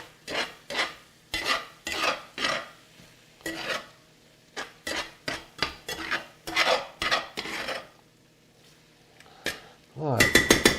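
Utensil stirring Worcestershire sauce into shepherd's pie meat in a pan, a series of close scraping, clattering strokes in short bursts, with a brief metallic clink near the end.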